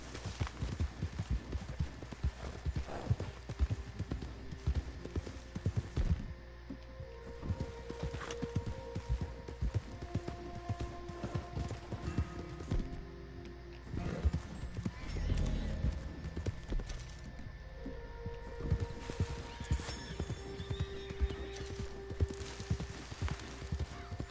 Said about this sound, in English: go, horsey.